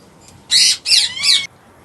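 A pair of plum-headed parakeets kept for breeding give three loud, shrill, harsh calls in quick succession, each about a quarter second long, close to the listener against a quiet background.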